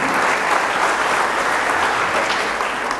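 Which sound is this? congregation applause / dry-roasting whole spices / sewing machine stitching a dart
congregation applause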